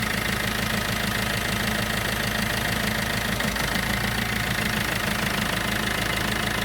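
Iveco Daily diesel van engine idling after its first start in ten months, a steady loud close-up rumble with a continuous mechanical knock and a brief shudder partway through.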